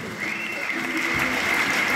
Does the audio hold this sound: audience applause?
yes